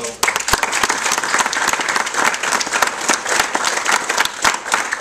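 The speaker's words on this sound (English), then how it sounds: "I join you in clapping" An anniversary event audience claps loudly and steadily, with sharp individual hand claps standing out from the dense crowd applause close by, and voices faintly mixed in.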